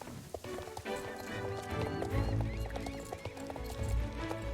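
Rhythmic hoofbeats of a galloping horse in a video game clatter steadily over background music, with a brief whinny near the start.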